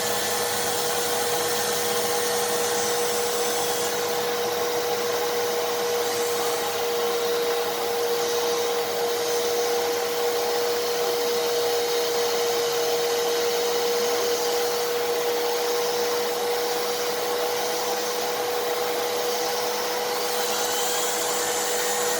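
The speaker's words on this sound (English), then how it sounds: "This thing actually spins up the turbo brush really well" A Hoover WindTunnel vacuum cleaner with its turbo brush spinning produces a loud, steady motor drone with a constant high whine, running unbroken for over twenty seconds with no talking.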